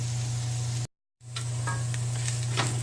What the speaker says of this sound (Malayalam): മുളക് പൊടിയുടെയും മഞ്ഞൾപ്പൊടിയുടെയും പച്ചച്ചുവ മാറുന്നത് വരെ ഇളക്കാം.